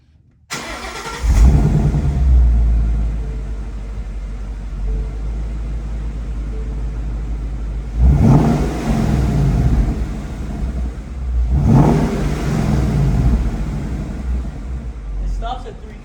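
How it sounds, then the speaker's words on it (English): A stock-exhaust S550 Mustang GT fires up with a sharp burst and settles into a steady idle rumble, then revs twice in deep, throaty surges before dropping back to idle; the engine is close and loud throughout. "I'm gonna start it up and rev it."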